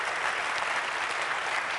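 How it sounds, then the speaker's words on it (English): Applause from the audience at Apple's WWDC developer conference, a steady dense wash of clapping from a large crowd that lasts the whole stretch without talk. "I'd really like a round of applause for all of the Cocoa developers who've stuck with us throughout the years"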